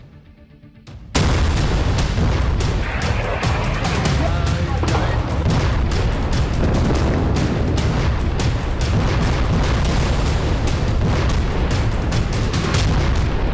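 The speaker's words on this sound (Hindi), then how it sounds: "एक के बाद एक ताबड़तोड़ बमबारी। 15 मिनट के अंदर 14 स्ट्राइक।" Repeated bombing strikes in a war news report hit hard one after another, a dense, loud, near-continuous barrage of booms and bursts that starts abruptly after a second of quieter sound.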